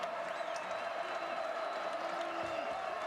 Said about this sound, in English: Crowd on its feet and appreciative here in the final minutes of this one.